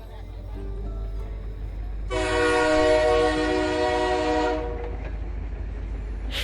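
A local train passes with a loud, sustained horn-like tonal blast lasting a couple of seconds over a low rumbling rail drone, then fading back to steady train noise.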